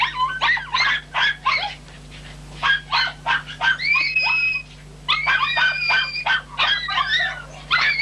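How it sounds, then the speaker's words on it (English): Mongrel terriers, a mix of beagle, bull terrier and other breeds, yapping and whining excitedly on a rat hunt, a close, loud run of high barks and yips with hardly a pause. "I use my own mongrel strain of terrier"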